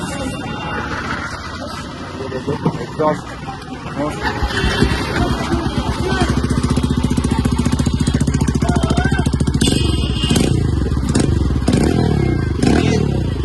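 A Hero Xtreme 125R motorcycle with a full-system Akrapovic exhaust and no dB killer revs loud and close, its deep bassy exhaust holding a steady rumbling roar after a few opening blips.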